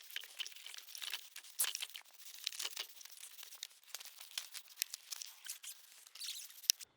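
Fabric protective cover being fitted around an ICECO JP50 Pro portable fridge and zipped shut, giving a steady run of close, soft crinkling and rustling with brief scratchy bursts and a sharp click near the end, no talking.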